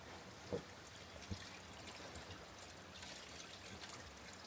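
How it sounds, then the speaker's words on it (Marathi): Water pours into a fish tank as a faint, continuous trickle with a couple of soft splashy knocks near the start, quiet and without voices. "आता फिश टँक मध्ये पाणी भरायचंय, पाहू शकता पाणी भरायला सुरुवात झाली."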